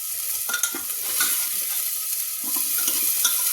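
Potatoes for aloo matar fry and get stirred in a pan, giving a steady close sizzle with scraping stir sounds, with no talking.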